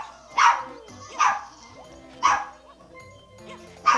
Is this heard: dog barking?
yes